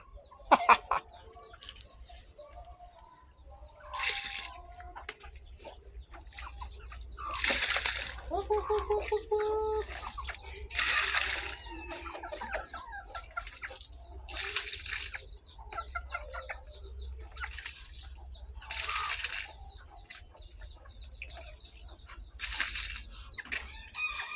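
A chicken clucks and crows now and then amid outdoor background noise and intermittent voices.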